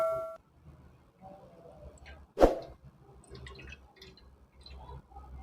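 Wheat flour milk for halwa is strained while liquid drips, making a few soft, sparse drips in a quiet space with one sharper splash in the middle.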